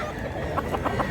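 A rooster offered for sale by a seller at a gamefowl market clucks in short repeated calls close by, set against a steady backdrop of crowd noise.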